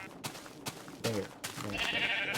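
Sheep bleating in Minecraft Beta 1.7.3, a short wavering bleat that stands out among soft clicks and other game sounds, moderately loud and close.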